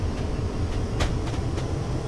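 A Class 66 diesel locomotive in Train Simulator 2017 hauling freight trucks gives a heavy, steady low engine drone with faint rail clicks on top, continuous and fairly loud, with no talk.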